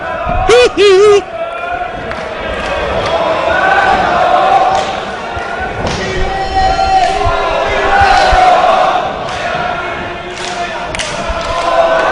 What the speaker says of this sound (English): Rich Swann getting a nice round of applause from the fans here in New Orleans